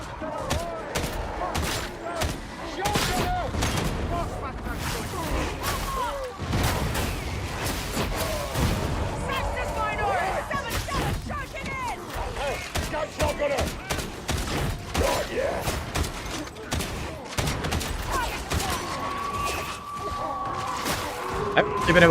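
Long-range sniper gunfire in a busy online shooter match, sharp distant cracks scattered among a crowded run of other shots, impacts and thuds, with game noise throughout and no voice on top.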